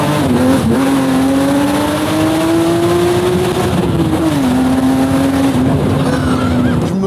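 A Ferrari engine revs loudly and close by out in a field, a sustained droning note rising and falling in pitch over several seconds with a slight dip midway, no talking over it.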